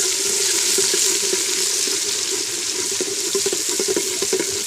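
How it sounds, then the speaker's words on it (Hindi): Onions hitting hot ghee in a pan for a split chickpea curry, giving a loud, steady hiss and sizzle with crackling pops throughout and no talking. "अब हम इसके अंदर प्याज डालेंगे।"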